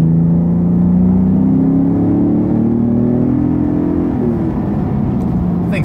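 A 2017 Ford Raptor pickup of about 5,700 pounds accelerates hard, its engine note climbing steadily in pitch with a gear change near the end, loud and close, heard from inside the cab.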